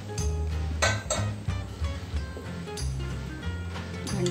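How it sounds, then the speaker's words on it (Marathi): Metal cake tin holding dry-fruit rava cake batter set down inside a preheated pressure cooker, giving close metallic clanks, scrapes and a few bright clinks spread irregularly over a low background rumble. "आपण या कुकरमध्ये हे भांडं ठेवून देऊ."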